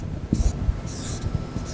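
Equation written by hand during a heat capacity lecture: soft, scratchy strokes in short bursts, with faint low sounds of the lecturer between strokes.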